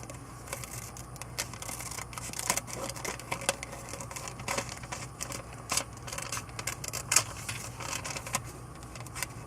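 Scissors snipping through card paper while trimming around a piece for a handmade shaker card, a steady run of quick close crisp cuts with no voices.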